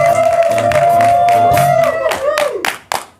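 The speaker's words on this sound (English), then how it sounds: "I can't believe I made you clap for that." A large comedy-show audience in Pretoria claps and cheers loudly, a dense burst of applause that fades out toward the end, while a held sung or shouted note rings over the top.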